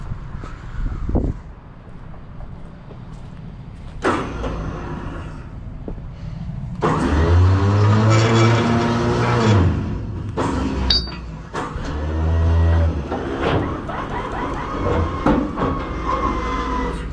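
A work truck's engine cranks and catches, then idles and revs unevenly with harmonic droning and metallic clinks, fairly close and steady with brief pauses between bursts.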